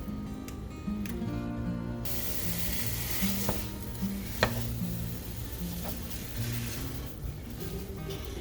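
Jimmy Dean regular pork sausage frying in a pan, a steady close sizzle with occasional soft clicks and scrapes over a low background hum.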